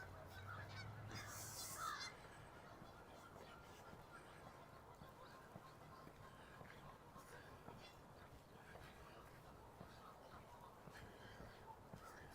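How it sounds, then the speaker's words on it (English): A goose honks faintly near the start outdoors by a lake in Regina, under steady wind and ambient noise, then the rest is a constant low outdoor rumble. "Oh, hello, goose."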